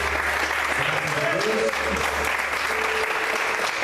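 A church congregation applauding at an evening service, steady dense clapping throughout under a low hum, with a voice briefly heard over it.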